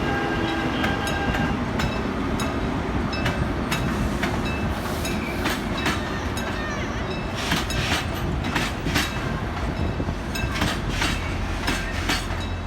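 Train rolling near Incheon Station with continuous rumbling wheel noise and rhythmic clicking of rails, steady and fairly close, without speech.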